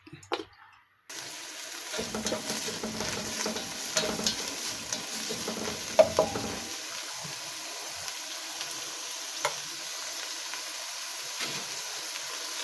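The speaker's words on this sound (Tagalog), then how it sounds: "Lalagyan na natin ng mantika. Gisa na natin ang mga sangkap." After a moment of silence, ingredients hit hot oil in a cooking pot for shrimp sinigang and sizzle steadily, with faint scraping from the stirring spoon.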